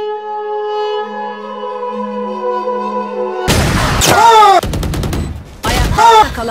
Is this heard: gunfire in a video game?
yes